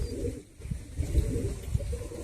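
Pigeons in a loft give soft, low, rolling coos that pulse several times over a steady murmur of background noise.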